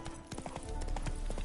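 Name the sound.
horse hooves clip-clopping, from video game Witcher 3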